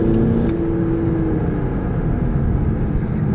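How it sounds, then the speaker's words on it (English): 2014 VW Passat TDI diesel accelerating at full throttle, a loud steady low engine drone and whir heard from inside the car. "I'll just plant the throttle all the way down."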